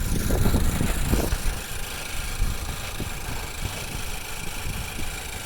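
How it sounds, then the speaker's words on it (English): A 2015 Ford Focus with a GDI engine runs at a steady idle, its low mechanical hum carrying a faint rapid injector ticking, heard close with no talking. "It sounds like a normal Focus GDI engine. They have that injector noise."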